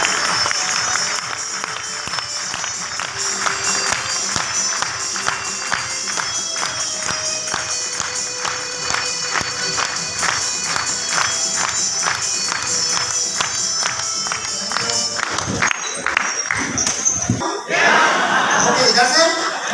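An audience at a motivational business talk welcoming PK Singh of RCM claps in a fast, dense patter of many hands, swelling to a louder burst near the end with cheering.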